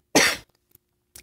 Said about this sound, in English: Getting ready to cough.